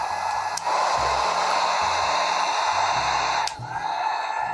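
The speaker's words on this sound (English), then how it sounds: "I'm going to pull out my hot heat gun. This is like a hair dryer on steroids." A hot heat gun blows steadily on heat shrink tubing over wire splices, producing a loud, continuous airy whoosh like a powerful hair dryer, with two brief dips in the flow.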